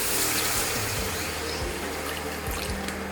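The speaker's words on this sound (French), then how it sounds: "Là, j'incorpore le lait froid." Cold milk poured into a hot roux in a saucepan while making béchamel, a steady close splashing, trickling pour with faint sizzle running the whole time, no voices.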